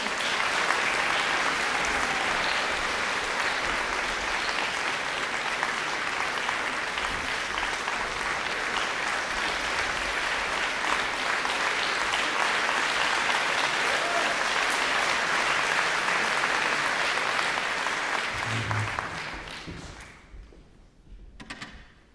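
Long sustained applause from a concert audience for piano duet performers at the final of a piano marathon, a dense steady wash of clapping that holds evenly for about twenty seconds before fading out.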